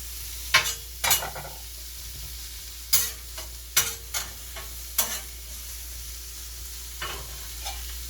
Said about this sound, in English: I just want the natural flavor of the onions, the peppers, and zucchini to mix together here on the top of the grill